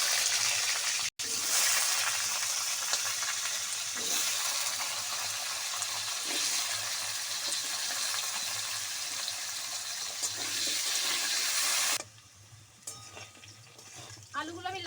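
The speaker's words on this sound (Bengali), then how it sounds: "এবার আমি আলুগুলো ভেজে নেব।" Potatoes fry in hot oil for a Bengali jackfruit and prawn dish, giving a loud, steady sizzle for about twelve seconds before the noise drops off sharply into quieter kitchen sounds.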